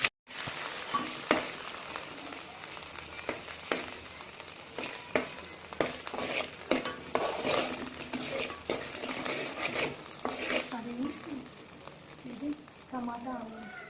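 Ginger-garlic paste frying with spices in hot oil, with a steady sizzle under frequent clinks and scrapes of a spoon stirring against a pan and some background voices.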